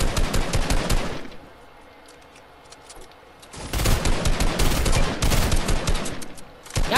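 Video game gunfire in rapid automatic bursts, loud and close, stopping for a quiet lull of about two seconds before heavy rattling fire resumes and carries on to the end.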